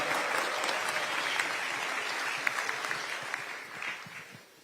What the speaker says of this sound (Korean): 큰 박수로 한번 환영해 주셨겠습니다